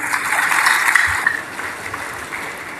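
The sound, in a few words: audience applause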